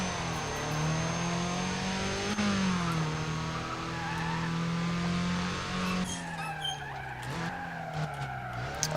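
A Volkswagen Golf in Need for Speed ProStreet holds a steady, loud engine drone with shifting pitch, joined by tire squeal and skidding through corners that roughens toward the end.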